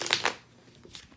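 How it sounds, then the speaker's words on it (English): Tarot cards are shuffled in a quick burst of crisp riffling that fades into quiet, with one soft card flick near the end and no voices. "Let's just do a quick shuffle with these cards."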